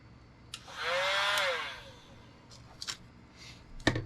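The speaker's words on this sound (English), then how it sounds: "I did get myself a heat gun out and get it ready" A heat gun briefly switched on and run for about a second, a whirring blower with a rising then falling tone, followed by a few small clicks and knocks nearby.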